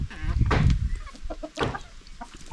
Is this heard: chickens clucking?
yes